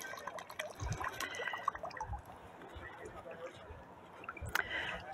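Water poured through a coffee filter, soft irregular trickling and dripping close by, faint and patchy with a few louder splashes and light handling knocks.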